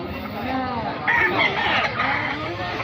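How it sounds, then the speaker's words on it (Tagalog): Several roosters crow repeatedly at a roadside chicken market in Baliwag, Philippines, their overlapping calls loud and close amid steady outdoor crowd murmur. "Dito mga bilihan ng manok."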